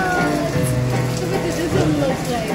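Rain falls steadily around a village restaurant in Pali, a dense constant hiss with voices or other tonal sounds mixed faintly underneath.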